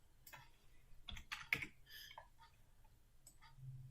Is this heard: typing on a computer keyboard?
yes